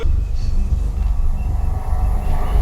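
Shinkansen bullet trains race at speed in a film, a dense continuous rumbling roar with rhythmic low pulses, loud and close for the whole moment.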